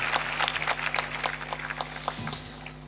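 An audience at a spiritual satsang discourse claps after being prompted, a short patter of scattered hand claps over a steady electrical hum, thinning out and fading by the end.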